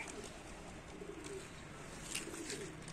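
Pigeons being readied for flying give soft, low coos in a quiet setting, a few faint repeated calls over light background noise.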